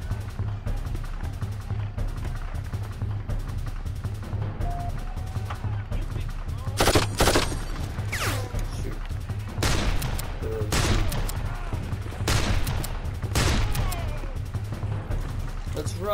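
Gunfire from the Darkest of Days video game plays over a low background rumble. Several sharp bursts and volleys of shots come near the middle and toward the end.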